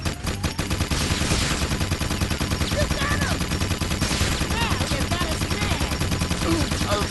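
Rapid machine gun fire from the video game Jak 2 rattles in a dense, continuous burst that runs nearly the whole time at steady high loudness, with faint game effects layered in.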